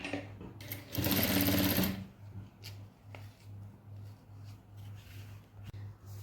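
A sewing machine runs in a short loud burst while hemming a pants pocket at half an inch, then falls to a quiet rhythmic motor hum pulsing in regular beats.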